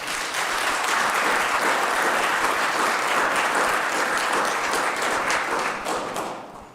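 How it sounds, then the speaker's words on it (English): An audience at a county State of the County address breaks into sustained applause, a dense, loud wash of clapping that holds steady for several seconds before starting to fade at the end. "And if we'll give them an applause."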